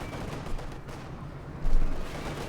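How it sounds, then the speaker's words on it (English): Heavy mortars firing in Company of Heroes 2, a World War II real-time strategy game, heard as distant, muffled thumps over a continuous battle din, with one louder swell of blast near the end. "Heavy mortars keep firing away there."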